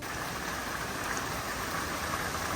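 Heavy tropical rain pours steadily at a caravan park in Cairns, Queensland, a dense, even hiss of downpour that fills the whole stretch with no letup and no voices.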